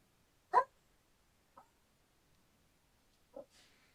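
A dog gives a few short, sharp barks, spaced out over a few seconds, fairly close but not loud, with quiet pauses between them.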